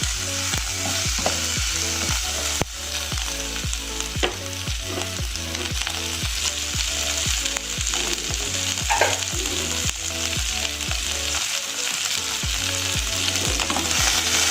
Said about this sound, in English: We stir it here like 2 or 3 minutes